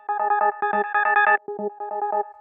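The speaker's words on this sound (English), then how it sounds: "it's this operator patch where we just got some sine waves doing FM, kind of creating this like organ sound" FM synth organ tone built from sine waves on an operator patch, a series of short buzzy stacked chords in a choppy rhythmic pattern, clean and upfront with no voices.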